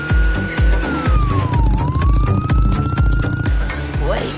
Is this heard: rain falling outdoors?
no